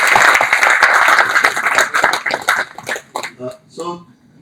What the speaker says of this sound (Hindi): भाई, इसको ताली मारना चाहिए।